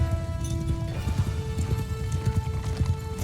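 Horse hooves clip-clopping quickly as a mount is ridden in the video game Mount & Blade II Bannerlord, a brisk rhythmic gallop close by, with a brief neigh and a faint voice in the background.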